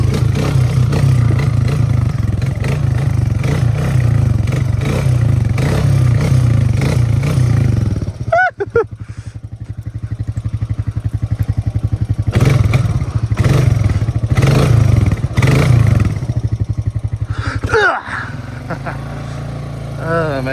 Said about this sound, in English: there's a quick rundown of the new Outlander exhaust